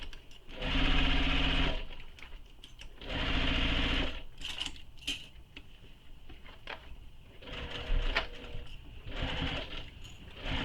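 Sewing machine stitching a gusset lining on a handmade backpack, running in several sustained bursts with short pauses and light handling clicks between, close and fairly loud.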